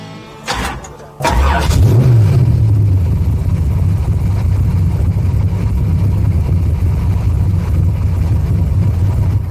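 A 1990 Corvette with a V8 making close to 800 horsepower on nitrous without a blower: a sharp start-up burst, then a loud, deep, steady idle rumble close by, with a brief rev swell just after it catches.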